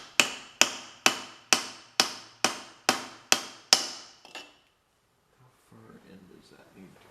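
A hammer strikes metal engine parts on a 1971 John Deere 140 H3 during an engine rebuild, nine sharp, evenly spaced blows followed by a weaker tenth, then quiet handling noises.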